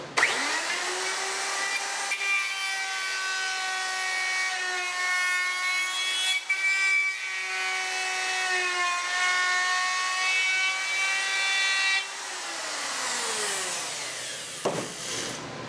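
An old high-carbon steel router bit cuts a wooden finger joint plate, a loud steady whine with a dense stack of harmonics that holds for about eleven seconds, then spins down and stops.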